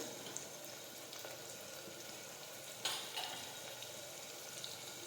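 Spices and cumin seeds sizzle in hot oil for an eggplant and potato curry, a steady frying hiss close by with a brief louder crackle partway through and no voices.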